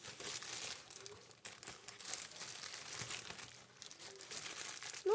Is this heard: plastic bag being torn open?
yes